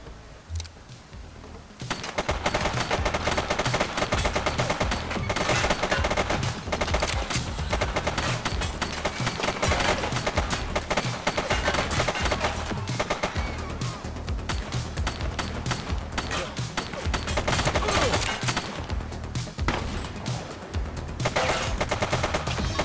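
Gunfire in the video game The Precinct: dense, loud machine-gun bursts and rapid shots pound almost without pause, with brief quieter gaps between volleys.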